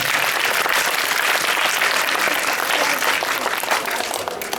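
Loud, continuous applause from a theatre festival audience at an anniversary celebration, many hands clapping in a thick, even roar that holds steady before easing slightly near the end.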